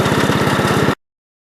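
A 1967 International 424 tractor engine with a snow blower attached runs close by, loud and steady with a fast rhythmic pulsing chug, and then cuts off abruptly.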